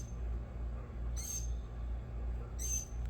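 A bird perched on top of a fence gives two brief high calls a little over a second apart, heard over a steady low background hum with no talking.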